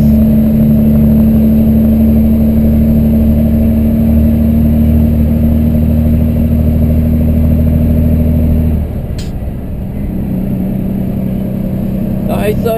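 A truck engine cruises in fifth gear along highway BR 116 in northeastern Brazil: a loud, steady droning hum with road noise that shifts slightly in tone near the end.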